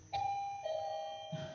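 A quiz buzzer bell at a church Bible quiz sounds a clear two-tone chime, a higher ding followed by a lower, longer tone, close and loud, with no talk over it.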